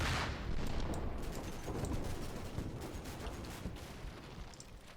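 Sustained, dense gunfire and explosive bursts rumble through a Combat Mission battle on a snowy front as troops fire at a building, a loud continuous barrage with no pauses.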